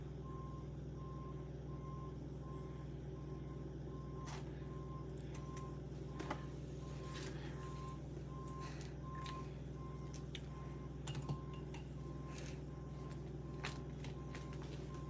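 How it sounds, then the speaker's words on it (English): A steady, evenly spaced electronic beep repeats from outside over a low engine hum, with occasional faint clicks and footsteps nearby. "y'all don't hear that beeping outside?"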